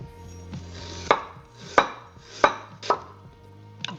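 Knife strikes a cutting board in four sharp, evenly spaced chops while half a red onion is cut into pieces for a wok-braised soy chicken, close and clear with a faint low hum underneath and no talking.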